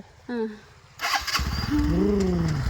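A motorcycle engine cranks and catches, then settles into a loud, steady rumble while people talk over it.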